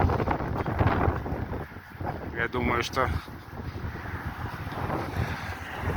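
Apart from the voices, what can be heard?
very strong wind blowing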